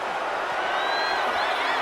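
Virtual arena crowd in the WWE 2K25 wrestling game, a steady loud wash of cheering and whooping with rising shouts, continuous throughout.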